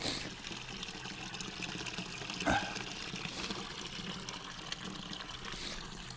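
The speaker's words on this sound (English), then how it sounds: "right here got some really good running water." Water runs in a small mountain stream along the Continental Divide Trail near Lake City, a faint continuous gurgling trickle that holds steady throughout with one brief louder splash.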